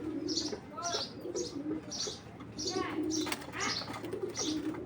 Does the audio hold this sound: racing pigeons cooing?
yes